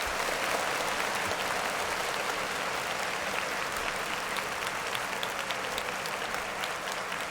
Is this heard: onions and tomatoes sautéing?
no